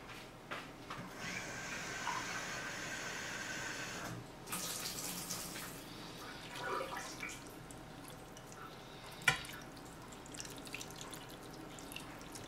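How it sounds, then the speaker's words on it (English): Tap water runs steadily into a stained grill pan holding a cup of baking soda, a continuous close hiss and splash that shifts in tone as the flow changes, with a sharp clink near the end. "cover that with water."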